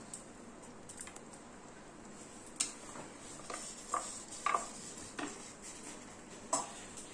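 Jaggery being stirred into fried green mango in a pan for a sweet, sour and spicy pickle, heard as soft scraping with a few light spoon clinks against the metal, quiet and without talk.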